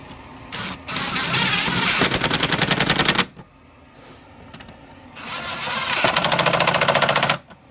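An impact gun snugging 8 mm bolts on a 2004 Chevy Colorado, two loud, close, rapid hammering bursts of about two to three seconds each, separated by a short quieter pause.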